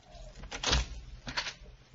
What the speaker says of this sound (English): Now, let's try the door.